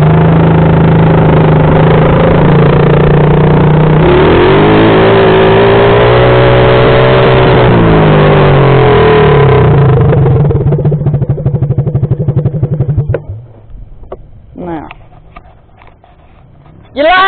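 A CRF 50 or Coolster 50 mini dirt bike engine revs hard and loud up close, holding a strained high buzz for about ten seconds before dropping away, with outdoor voices and brief revs near the end.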